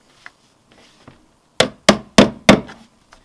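Four sharp hammer blows tapping van parking sensor parts into place strike in a steady rhythm, close and loud, after a few faint light taps.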